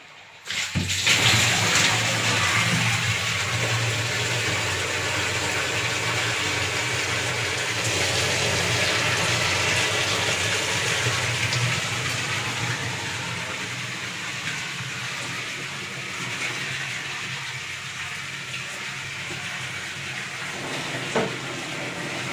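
Water gushes fast from a pipe into a large drum, a loud steady rushing and splashing that continues evenly throughout with no talk over it.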